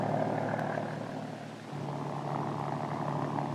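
A Kaman HOK helicopter with a Lycoming turbine engine gives off a steady, droning whine and hum at moderate distance. The sound is continuous, with a slight dip and shift in pitch midway, and no one speaks.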